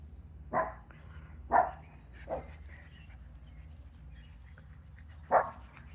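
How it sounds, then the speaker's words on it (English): A dog barks outdoors in a backyard, four separate short barks spaced a second or more apart, moderately distant over quiet background. "Ray Ray, what are you barking at back there?"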